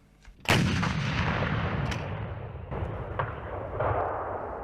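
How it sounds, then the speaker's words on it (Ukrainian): A loud anti-tank gun blast from an MT-12 Rapira erupts sharply during training, followed by a long rumbling echo and a few smaller distant reports fading out. "Військовослужбовець із позивним Ромео на навчаннях відпрацьовує стрільбу з гармати МТ-12 Рапіра."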